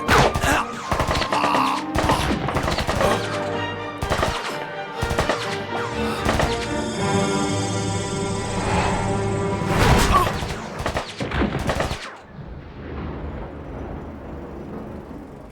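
Rapid gunfire from an anime action episode, dense bursts of shots with crashes and blasts stacked over a sustained musical tone, loud and busy for about twelve seconds before dropping to a softer ambient tail.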